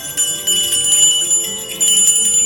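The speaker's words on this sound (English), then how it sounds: "ring our bells with love for healthcare workers" Bells ring out steadily at a Christmas Eve family church service, a continuous bright metallic pealing with overlapping strikes, fairly loud and sustained throughout with no voices.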